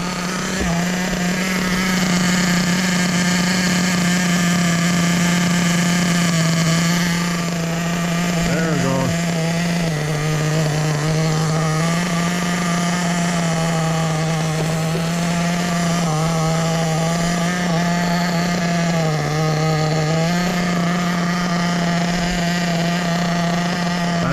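A new Hobao Hyper VS2 nitro RC buggy engine runs during break-in, holding a loud, buzzing steady idle with brief throttle dips and rises, close up and continuous throughout.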